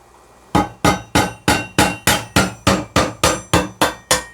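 A hammer strikes a screwdriver over and over to punch a hole in a plastic lid for a brine shrimp hatching setup: about twelve sharp, loud metallic blows at a steady rhythm, each ringing briefly before the next.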